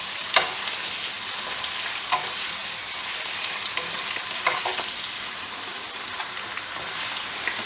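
Whole small potatoes fry in a pan with a continuous bright crackling sizzle, punctuated by a few sharper stirring knocks, close and steady throughout.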